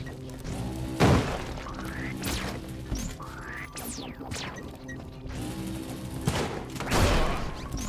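A bomb goes off in Spelunky 2 during a dark-level daily challenge, giving a sharp crash and thud near the start and another loud burst later amid clattering game effects and bouncing sounds.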